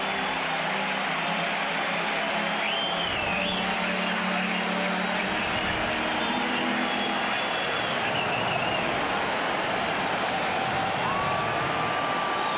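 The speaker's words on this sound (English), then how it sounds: "And this crowd is alive." Baseball crowd at a Brewers at Cubs game roars steadily with cheering and applause, a dense wash of noise that fills the whole stretch without letup.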